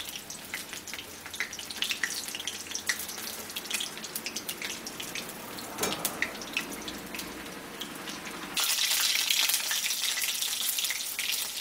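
Stuffed bottle gourd leaves shallow-frying in a pan make a steady crackling sizzle with small pops and occasional turning sounds, heard close. The hiss jumps louder and brighter for the last few seconds, with no voices.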